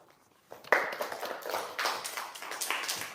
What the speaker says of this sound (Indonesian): Beri tepuk tangan buat teman kita yang sudah berani menjawab